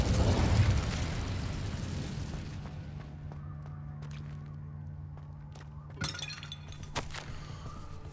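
A fire spell cast in the video game Hogwarts Legacy bursts out as a loud, crackling blast that quickly fades to a low hum, with a few faint clinks following.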